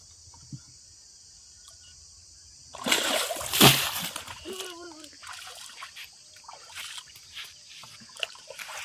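Water splashing while fishing for snakehead murrel, a sudden loud splash and sloshing burst near the middle, then trickles and smaller splashes over a steady background of insect chirping, with no talk.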